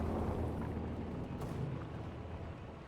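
Mortar fire in the video game Company of Heroes 2 produces a dense, continuous rumble of distant explosions and booms, heavy and steady throughout the short stretch.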